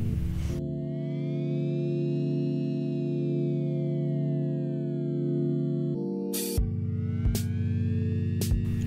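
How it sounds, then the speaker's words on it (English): An airbrush sprays nail polish color in a steady, droning hum that holds for several seconds, cuts out briefly, then resumes at a slightly different pitch with a few small clicks. "I'm going in again with the airbrush just to make the color more pigmented"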